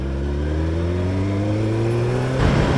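A Honda CBR1000F motorcycle engine revs close up, its tone climbing steadily and smoothly for a couple of seconds before a rougher burst of throttle near the end.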